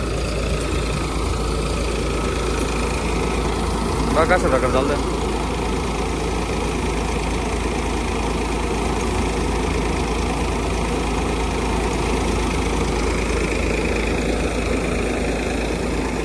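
A Vishwakarma multicrop hopper wheat thresher runs steadily during village wheat threshing, a loud continuous mechanical drone with a low rumble, while someone talks over it.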